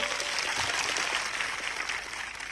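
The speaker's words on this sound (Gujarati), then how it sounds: "આજે આ મંચ પરથી એમના માટે જોરદાર તાળીઓ પાડી લો" A crowd at a political rally in Gujarat claps steadily in dense, continuous applause, sustained and fairly loud throughout, easing slightly toward the end.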